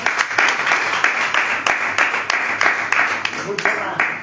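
Church congregation applauding the Lord during a Spanish-language service, dense sustained clapping with rhythmic pulses at close range, a voice or murmur of talk running faintly underneath.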